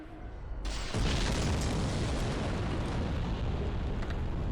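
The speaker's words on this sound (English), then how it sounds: "We're going to have some explosions happen near them. Because this guy is throwing bombs." Thrown bombs explode in the video game Dark Souls, a sudden loud blast that swells into a sustained roaring rumble and lingers to the end without any voices.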